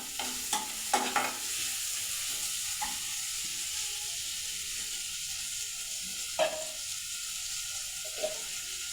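Onions sautéing in a pan, a soft steady sizzle underneath a few sharp scrapes and taps of a spoon stirring, close and fairly quiet with no voices.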